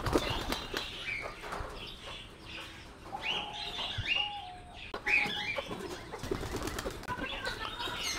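Pigeons at feeding time flapping their wings in repeated bursts of fluttering, with soft clucks and coos from the flock close by and no talking.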